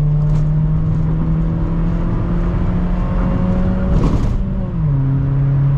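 A 2002 Mitsubishi Lancer engine at full throttle on a highway, heard from inside the car: a loud, steady droning note that climbs gradually, then drops sharply as the gear shifts near the end.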